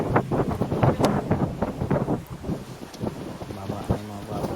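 Gusty wind buffets the microphone with low rumbling bursts, loud and uneven, while people talk nearby at a coastal fishing spot in Coromandel.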